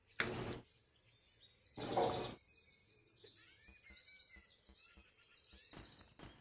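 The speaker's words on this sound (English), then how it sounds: "those birds are super duper angry" Cartoonish bird chirps and tweets from a video game, with bright chittering calls repeating across the clip over soft background noise, broken by a few loud bursts of static-like noise.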